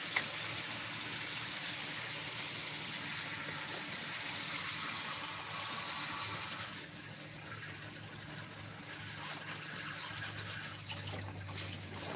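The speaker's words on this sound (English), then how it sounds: "Add that water at the bottom of that." Water poured into the bottom of a seedling tray, a steady soft gushing splash that runs for several seconds and then drops to a quieter trickle, faint and close, with no talk.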